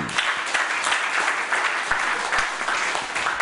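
A church congregation applauding during a sermon, a brisk dense burst of clapping from many hands with a few sharp, close claps.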